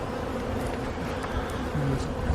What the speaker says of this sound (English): See all the bees?